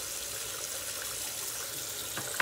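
Running tap water gushing steadily over a shaving brush being soaked at a sink for lathering shaving soap, a close, continuous wash with a small clink near the end.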